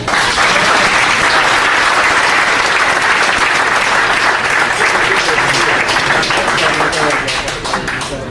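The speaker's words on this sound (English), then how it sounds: "You all deserve a round of applause." Enthusiastic applause from the audience at an Armenian relief fund charity evening, loud dense clapping sustained at full strength for several seconds before easing slightly near the end, with cheering voices mixed in.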